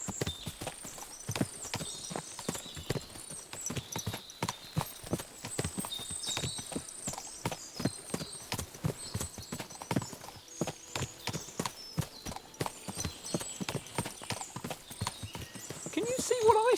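Many horses walk in Kingdom Come Deliverance 2, their hooves clip-clopping in a steady, continuous rhythm throughout, with a voice speaking now and then over the hoofbeats.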